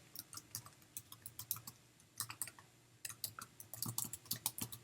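Quick, irregular keyboard typing with crisp clicking keystrokes in short bursts and brief pauses, close up with no voices.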